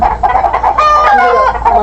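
A tiger chicken clucks close and loud in short rhythmic bursts, rising into a longer drawn-out squawk.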